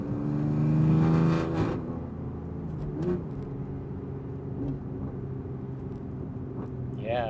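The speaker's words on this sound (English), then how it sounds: "You let off the throttle, and it's almost like pure engine sound, pure exhaust sound coming down." BMW F80 M3 engine and exhaust burbling on overrun after the throttle is lifted: a loud deep drone that decays and settles into a steady low rumble, with a faint whine near the end.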